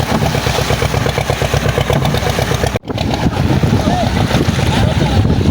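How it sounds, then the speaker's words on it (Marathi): Strong wind buffeting a boat at sea during a Narali Purnima outing, a loud continuous roar with engine rumble underneath and a brief dropout midway. "मित्रांनो हवा किती बघा, जाम हवा आहे"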